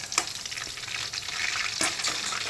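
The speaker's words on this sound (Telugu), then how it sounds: "ఆయిల్ బాగా వేడెక్కాక పచ్చిమిర్చి వేసుకుంటే" Green chillies frying in hot oil for semiya upma, a steady loud sizzle with crackling bursts and occasional stirring, no voices.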